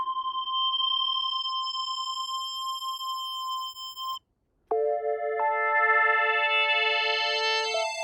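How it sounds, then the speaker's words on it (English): A synthesizer built in SynthMaker holds a steady high-pitched pure tone, then after a short break returns with a cluster of stepped tones that sweep higher, loud and clean with no talking. "A very high frequency would be like,"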